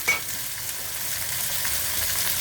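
Snow peas stir-fried briefly in a hot pan make a bright, continuous sizzle with a faint rustle of stirring, close and steady, with no voices.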